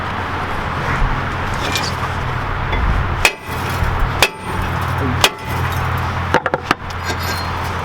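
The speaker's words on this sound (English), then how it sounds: "Now we're gonna need to hammer this rotor off." Several sharp metallic hammer blows ring out as a brake rotor is knocked off a 2009 Mazda 3, at irregular intervals a few seconds apart, with a quick double strike near the end over steady background hum.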